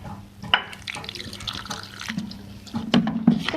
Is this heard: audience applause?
no